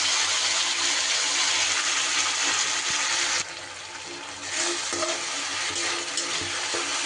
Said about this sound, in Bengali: এইবার আমি যে মশলাটা পেস্ট করলাম দিয়ে দিচ্ছি সেই মশলাটা